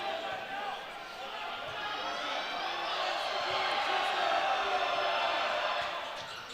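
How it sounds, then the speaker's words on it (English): The St. Xavier crowd at a high school basketball game against Elder roars loudly in a gym, a sustained swell of cheering and whooping that builds and holds, with a commentator speaking over it. "St. X crowd got loud"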